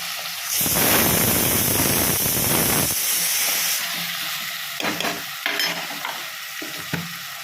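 Intestine pieces are sautéed with salt in a pan for kudal gravy, a loud sizzling hiss bursting in as ingredients hit the hot oil, then easing into softer frying with occasional stirring scrapes.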